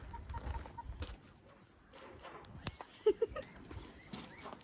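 Chickens and a rooster kept by a household clucking nearby, faint scattered calls with a couple of sharper clucks among soft background noise.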